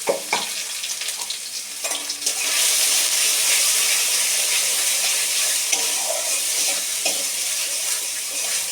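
Cabbage leaves drop into hot oil in a pan, bursting into a loud, steady sizzle after some brief clatter at the start, with the frying hiss holding continuously to the end.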